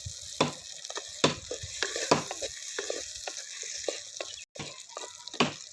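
Ingredients for Tamil vathal kuzhambu sautéed in a pan, a close crackling sizzle broken by repeated scraping stir strokes and brief clinks, no talking.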